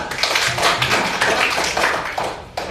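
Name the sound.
classroom applause for group two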